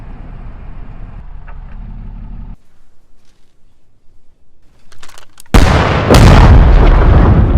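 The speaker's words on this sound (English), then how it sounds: "let's try and demonstrate blast radius" A converted technical vehicle bomb in the Squad military game detonates with one sudden, very loud, deep blast after a low engine rumble and a near-silent pause, then a roaring debris-filled aftermath.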